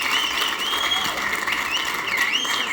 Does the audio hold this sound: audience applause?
yes